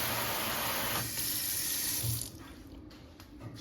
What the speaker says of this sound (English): All right, let's turn the water on.